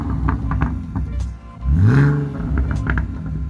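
A BMW E46 engine fitted with cheap aftermarket headers revs hard once, its loud, rising-and-falling roar swelling near the microphone over a rough idle.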